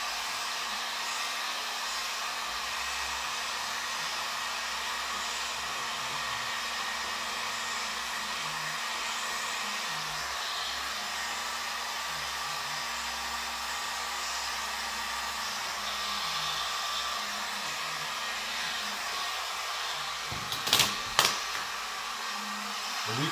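Steady blowing roar of a heat gun warming vinyl wrap on a Sprinter van's pressed panels, continuous and fairly loud throughout, with a couple of brief sharp knocks near the end.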